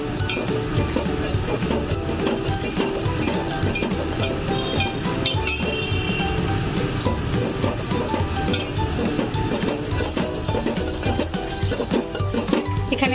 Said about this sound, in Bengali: সানফ্লাওয়ার সিডটাকে নাড়িয়ে আমরা একদম লো ফ্লেমে ড্রাই রোস্ট করে নেব।